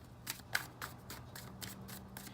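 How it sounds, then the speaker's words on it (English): Tarot cards are shuffled by hand close by, a quiet series of crisp riffling snaps and slides repeating in an uneven rhythm over faint room hum. "let's finish shuffling these cards"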